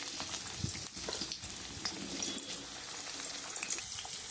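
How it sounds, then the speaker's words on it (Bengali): Eggplant with a little turmeric fries in oil in a wok, giving a soft, fairly quiet spattering crackle with scattered pops throughout. "আমি একটুখানি হলুদ দিয়ে আমি বেগুনটা একটু ভেজে নিচ্ছি।"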